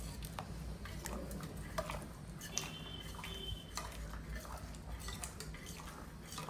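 A tempering of spices sizzles in a cooking pan for tomato-spinach dal while a utensil scrapes and stirs, with soft clinks of metal against the pan and a steady frying crackle throughout.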